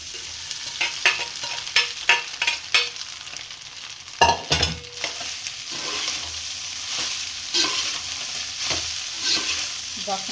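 Curry leaves crackle and sizzle in hot oil while a dried prawn curry made with sesame flour is tempered. The frying hiss is steady and loud, broken by sharp spoon scrapes and clatters of stirring.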